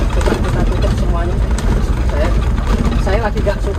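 Steady low rumble and road noise fill the cabin of an Isuzu Elf NHR 55 truck driving on rough asphalt, while a person talks over it at close range.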